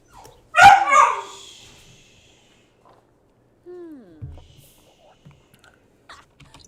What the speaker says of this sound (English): You can entertain this extremely attention-starved pup.